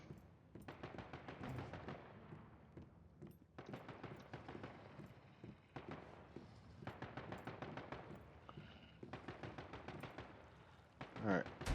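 Video game gunfire in Once Human, repeated bursts of automatic fire in rapid rhythmic volleys, steady and fairly close, with someone talking between and over the shots.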